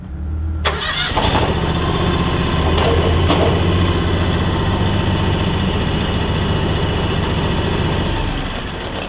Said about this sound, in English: I'll start the tractor to lower the quick hitch so it will remove from the snow thrower.